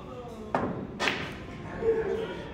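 In a one-on-one pool game, two sharp clicks of balls being struck land about half a second apart, with quieter rolling and faint noise after them and no clear talk.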